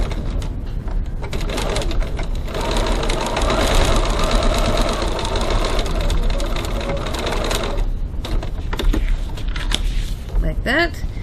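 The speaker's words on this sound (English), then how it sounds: "so now we're going to top stitch down the right hand side of our outer flap piece" A sewing machine runs steadily for several seconds, top stitching down the side of a wallet's outer flap with a 3.4 stitch length, loud and close, then stops with a few brief handling sounds.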